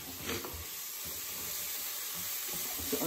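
Onions, shallots and leeks sizzling as they soften in a pan, a steady close frying hiss with occasional light stirring clatter.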